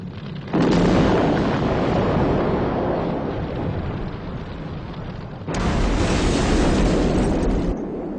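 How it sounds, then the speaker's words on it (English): A tower collapses in fire in a Thunderbirds puppet TV episode, a dense roaring crash of rumbling debris in two long loud bursts separated by a brief lull, with no talk over it. "The tower's coming down."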